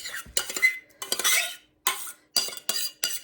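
Two cups of cooked rice spooned from a pot into a chicken-and-rice casserole dish: a run of close, uneven scrapes and clinks of a metal spoon against cookware, with short pauses between scoops and no talking.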